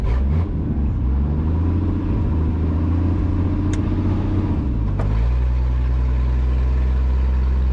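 An old $800 Mercury Comet engine runs loud while driving, a heavy steady rumble with low droning tones that shift as it changes speed, near and continuous with no voices.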